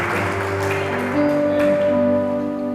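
Congregation applauding during an Easter church service, a steady wash of clapping at moderate level with sustained tones from instruments or voices beneath it.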